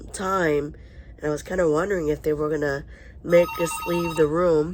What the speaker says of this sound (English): That was a phone call from medical.